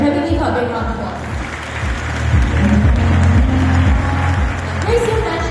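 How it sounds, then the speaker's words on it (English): An audience at an interview session with the Hong Kong artist Grace Chang applauds steadily for several seconds, a broad wash of clapping under a speaker's voice. "can we give her a big round of applause?"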